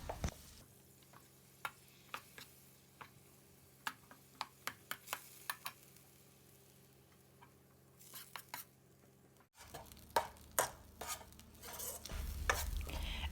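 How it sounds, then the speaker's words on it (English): Thai massaman curry paste frying in coconut milk over medium heat, a soft low sizzle broken by sharp spoon clicks and scrapes, louder stirring near the end. "Then fry all together until they get an aroma."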